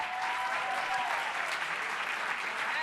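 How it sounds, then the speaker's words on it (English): A conference audience claps steadily to welcome a panel, a dense wash of applause that holds at an even level for a few seconds. "So give them a round of applause and welcome our panel."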